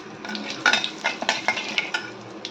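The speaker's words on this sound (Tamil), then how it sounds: "நல்லா நெய்யில் தாளிச்சிருக்கேன்" Spices with asafoetida sizzle in hot ghee while a spoon clinks and scrapes against the pan in irregular strokes, close and clear.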